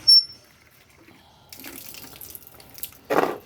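Water poured into a bucket, a short splashing gush after a brief high tone, ending in a louder burst of pouring, close and without talk.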